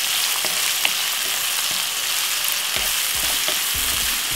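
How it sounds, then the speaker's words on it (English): Vegetables with fresh thyme frying in a pan for a Jamaican salt fish dish, a steady close hiss and sizzle throughout with a few soft stirring clicks and taps. "we're gonna allow this to fry up for about 4 to 5 minutes until the veg cooks"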